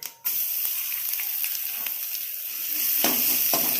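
Whole spices and crushed garlic sizzle steadily in hot oil in a pan, a dense continuous frying hiss that swells louder near the end, with no talking.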